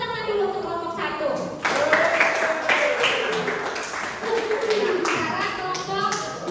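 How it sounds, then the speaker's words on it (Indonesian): A school chemistry class claps for a group of students, a scattered, close round of hand claps with children's voices and talk mixed in. "kita beri tepuk tangan dulu untuk kelompok 1"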